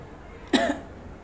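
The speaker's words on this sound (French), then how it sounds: "Tousse un peu." One short, sharp cough close by, over a quiet room background.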